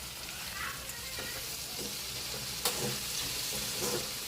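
Garlic cloves sizzle and crackle steadily in hot oil in a pan while gongura pachhadi is being made, close and continuous, with occasional stirring scrapes.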